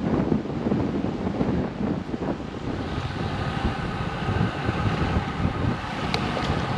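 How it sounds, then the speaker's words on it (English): Gusting wind roars across the microphone of a bike riding alongside Coniston Water, a continuous loud rumbling rush with no voices. "It's windy though."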